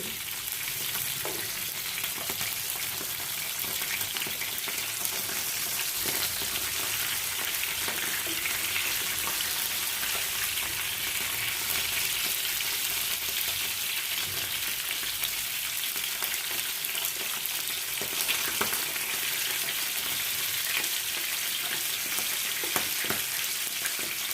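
Pabda fish fry in hot oil in a pan, a steady close sizzle with continual crackling spatter and pops throughout, no voices.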